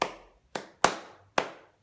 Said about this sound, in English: We're just going to clap the rhythm.